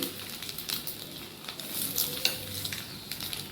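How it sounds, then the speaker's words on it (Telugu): Eggs frying with black pepper in a pan, a brief soft sizzle with light stirring scrapes and a small metallic tap, quiet and close, no talking. "ఒక 2 నిమిషాలు ఫ్రై చేసేసుకొని దింపేసుకుందాం"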